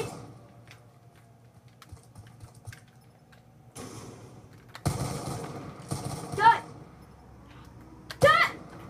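Gunfire from Call of Duty Black Ops 2 played on the Wii with a Wii Zapper comes in short, loud bursts over quieter game background noise, with a few sharper shots near the end.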